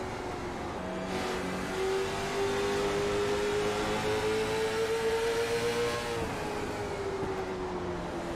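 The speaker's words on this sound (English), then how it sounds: "we've got race cars on screen at least for about 50 laps or so of tonight's 60 lap feature" Late model stock race car engines in iRacing at South Boston drone and rise in pitch as a car accelerates, then drop off, loud and sustained with no talking.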